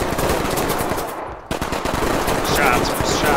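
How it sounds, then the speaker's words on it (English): Loud, dense automatic gunfire from the tactical shooter game Ready Or Not, rapid shots rattling almost continuously, with a brief dip in the middle before the firing resumes. "Shots fired."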